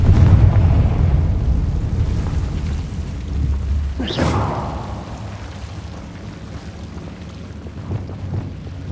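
A Confringo blasting spell explosion in Hogwarts Legacy, a sudden loud burst midway with a whooshing tail that fades into low ambient rumble.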